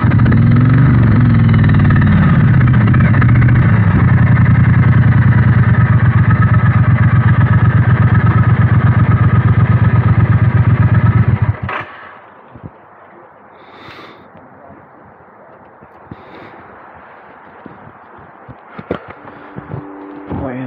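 Engine of a 2020 Triumph Bonneville Speedmaster 1200 motorcycle while riding, a loud steady drone for about half the clip that cuts off abruptly. Quieter wind and road noise with a few faint chirps follow.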